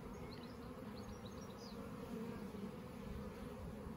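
A swarm of honeybees streaming into a hive with a single old comb frame, outdoors, making a steady low buzzing drone that is faint and continuous, without speech.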